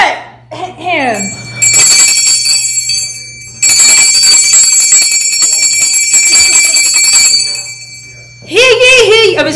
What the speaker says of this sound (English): Give me the bell. I want to be annoying.